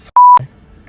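A single loud, pure electronic beep lasting about a quarter second, followed by a brief low thump, close and isolated in near silence.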